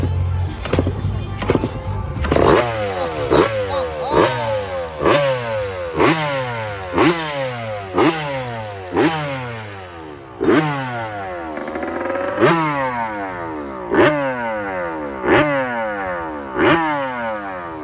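A Yamaha YZ125 two-stroke motorcycle, a hybrid of an engine and chassis about 25 years apart fitted with an FMF pipe, revs again and again. Each sharp burst climbs and then falls back in a regular rhythm, up close and loud.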